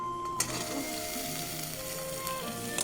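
Tomatoes and green peas fry with onions and cumin in hot oil, giving a continuous close sizzle with a faint utensil tap near the start, no talk.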